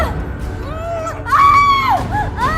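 A person screams loudly and repeatedly in a dramatic television scene, with wavering, pitched cries rising and falling in several close, intense bursts.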